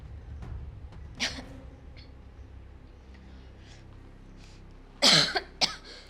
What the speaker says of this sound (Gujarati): ઉધરસ આવે છે?